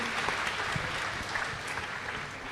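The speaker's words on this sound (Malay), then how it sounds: "Kita bagi tepukan untuk Ana Rafali, tuan-tuan." Steady audience applause fills the room at a celebrity talk show, a dense, even wash of clapping that holds at the same level throughout with no voices over it.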